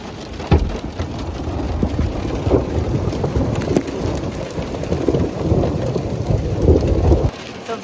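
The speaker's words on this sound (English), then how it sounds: "It's hailstoning and lightning and thundering." A thunderstorm with hail and lightning in Rome: heavy rain and hail drum steadily on surfaces while close thunder rumbles and cracks repeatedly, loud and near, with no speech over it.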